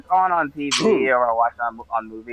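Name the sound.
sneeze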